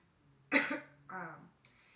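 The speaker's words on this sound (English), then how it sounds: "I've been having a little cough" Three rough coughs in quick succession, close and fairly loud, the first the strongest, with near silence before them.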